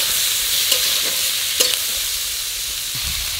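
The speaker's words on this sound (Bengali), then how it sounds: "দিয়ে দেব একটু বেশি করে কুচানো পেঁয়াজ।" Chopped onion goes into hot oil in a pan, giving a steady sizzle with a few scraping stirs of a spatula, close and fairly loud, with no talk.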